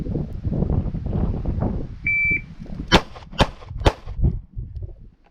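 Handgun fired one-handed during a law enforcement qualification course: three sharp, loud shots spaced about half a second apart after a brief buzzer tone, with range noise before them.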